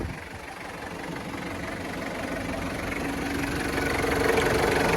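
A 1992 Toyota Hilux Surf with a 2.4 turbo diesel engine idles steadily, a continuous rough, clattering drone that stays loud and even throughout.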